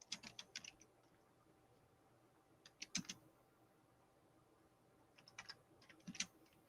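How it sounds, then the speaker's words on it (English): Faint computer keyboard typing in short bursts of quick key clicks, separated by pauses, in a quiet room with no talk. "He is typing."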